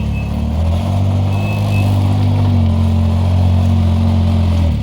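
A Can-Am Ryker three-wheeled motorcycle idling and being moved out of a workshop, a steady, loud, close engine drone with a low rumble throughout.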